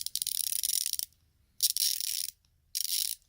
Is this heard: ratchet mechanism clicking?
yes